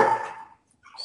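A dog barks once, close and loud, in a home setting, with a faint yip or whimper trailing off after a short pause.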